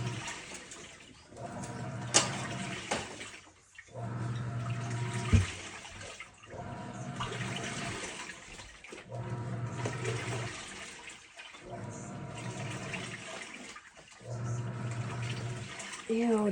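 An apartment washing machine running with water, sloshing and churning in repeated cycles of a few seconds each with low humming pulses, moderately close, with a voice talking at times.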